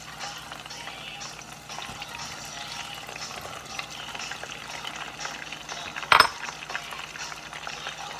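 Chopped onion frying in oil in a pan, a steady close sizzle and crackle running throughout, with one sharp clatter of a utensil partway through.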